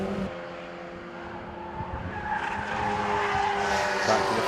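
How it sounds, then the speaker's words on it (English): Mazda MX-5 race cars flash through the first corner at Snetterton circuit, a rising engine drone and tyre noise building as the pack passes, continuous and moderately close. "Back to the first corner, seeing the cars flash through."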